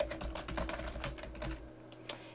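Keys tapped on a computer keyboard while an email address is entered, a quick irregular run of soft clicks close up that thins out and stops near the end.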